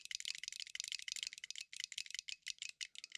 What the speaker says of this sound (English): There is fewer things I enjoy in life than the sound of a clicky stick.